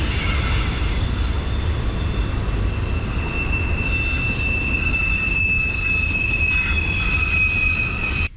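A freight train rolls past on tracks beside a trail near Tipp City, Ohio, producing a loud, continuous rumble with a thin, steady wheel squeal held over it throughout.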